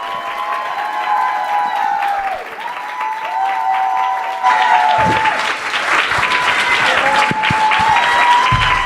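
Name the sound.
audience applause for featured guest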